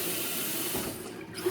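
Running hot tap water pouring steadily into a sink, a continuous hiss that tapers off near the end.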